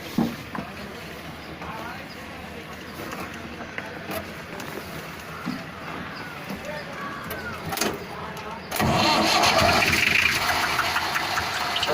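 A mobile crane's engine cranks and catches, rough knocking and rumble building before it settles into a loud, steady diesel roar close by, with someone talking over it.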